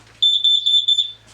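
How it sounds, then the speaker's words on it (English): A combined smoke and carbon monoxide alarm fitted in a summerhouse office with a log burner gives a rapid string of about eight shrill electronic beeps, loud and close, over a faint low hum. "we've fitted a smoke carbon monoxide alarm"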